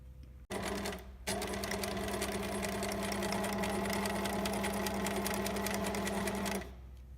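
A sewing machine stitches fabric for a bag, its motor whirring in a steady, rapid run for several seconds after a brief start and pause, close and clear with no talk.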